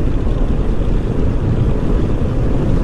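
A 2017 Honda PCX 125 scooter under full throttle, its engine a steady low drone heavily mixed with rushing wind buffeting the microphone throughout, with no speech.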